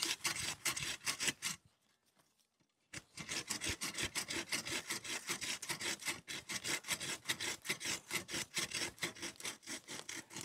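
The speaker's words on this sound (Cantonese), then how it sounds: "嗰個前後咁樣鋸咧，咁好快咧就已經鋸好㗎啦。" A hand saw cuts through a black spruce trunk outdoors in snow, with steady rapid back-and-forth rasping strokes, close and loud, pausing briefly for about a second before resuming the same quick rhythm.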